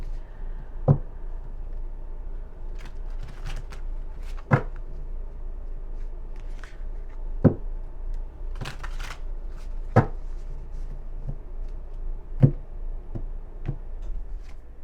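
Tarot cards are shuffled and handled in a quiet room, with soft riffling and sliding broken by several sharp taps or snaps spaced a few seconds apart, close by, with no talking.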